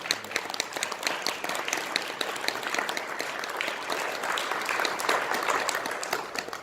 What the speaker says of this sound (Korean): 최봉종 교수님 뜨거운 박수